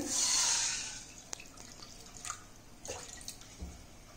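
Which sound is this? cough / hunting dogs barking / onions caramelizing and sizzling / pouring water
pouring water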